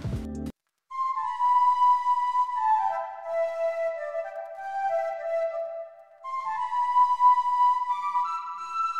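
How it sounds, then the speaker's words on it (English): Shakuhachi flute patch from Contact Start playing a breathy, sliding melody within a beat, moderately soft with a brief gap early on and no voices. "That sound is a shakuhachi,"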